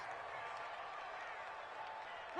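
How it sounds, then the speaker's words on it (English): A stadium crowd in a football video game cheers in a steady, continuous roar, loud and dense from start to finish with no break. "The crowd getting into it as we come up on a big third down"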